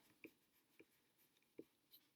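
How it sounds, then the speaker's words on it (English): A pencil or pen writes a word on paper, giving a few faint, short scratching strokes spaced irregularly in an otherwise quiet room. "So I'm going to write jumping."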